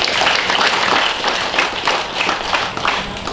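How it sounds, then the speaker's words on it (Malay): Crowd applause at a Malaysian official function in Tambunan, a dense steady wash of many hands clapping throughout, fairly loud and continuous with no talk over it. "Beri tepukan sekali lagi"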